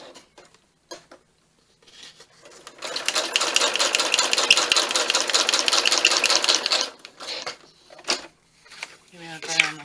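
A sewing machine runs in one steady burst of rapid, even stitching for about four seconds, framed by brief stop-start clicks and handling noises, with a voice speaking briefly at the very end.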